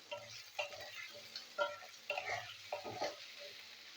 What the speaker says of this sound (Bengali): আলুটা ভেজে নেবো পেঁয়াজের সাথে।